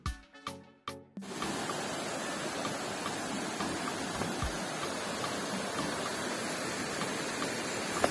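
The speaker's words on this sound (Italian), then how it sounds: "Abbiamo il fiume di lato e una foresta fittissima nel sentiero" A river flows beside a muddy trail through dense Amazon rainforest on the way to Cascadas Las Latas, a steady broadband rushing of water heard close by after a few brief rustles at the start, with no talking.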